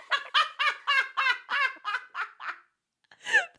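A person imitates a hen clucking after laying an egg, a rapid series of about eight rhythmic, squawky clucks that trail off, followed by a brief pause and one final rising squawk.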